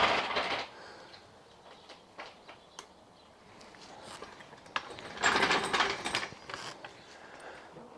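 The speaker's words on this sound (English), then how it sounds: "Lower your jack carefully, giving your jack enough room to manoeuvre." A car jack is lowered under a Land Rover with air suspension, giving sporadic metallic clicks, ratcheting and clunks, close and fairly quiet, with a louder burst of grinding mechanism midway.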